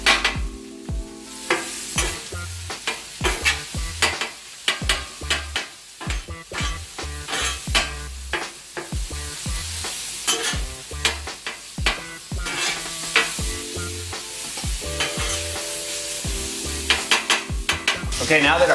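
Sausage sizzling on a 36 inch Blackstone griddle while a metal spatula scrapes and stirs it in quick, irregular clacks, the frying hiss steady underneath.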